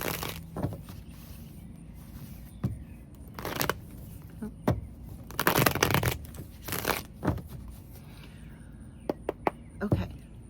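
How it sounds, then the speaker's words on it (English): Tarot cards shuffled during a third eye chakra reading, heard as scattered soft bursts of riffling and card slaps separated by quiet pauses, faint and close. "as I'm shuffling"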